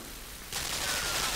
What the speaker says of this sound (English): Stupid machine guns.